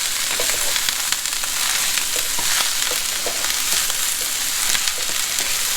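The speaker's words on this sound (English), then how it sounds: "with the wok, you need high heat so it cooks fast" Chow fun noodles stir-fried in a wok over high heat, a loud steady sizzle with scattered clinks and scrapes of the spatula throughout.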